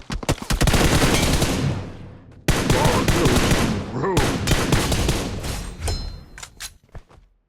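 M416 rifle fire in PUBG Mobile crackles in long, rapid automatic bursts, close and loud, broken by a brief pause and ending in a few scattered final shots, with a voice faintly under it.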